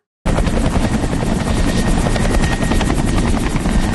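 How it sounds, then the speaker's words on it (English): A helicopter flies overhead in a scene from the TV series Pluribus. After a short silence it cuts in abruptly as a loud, steady rotor chop with a buzzing whine, holding close and constant with no talking. "Are they coming in with a helicopter because he's here?"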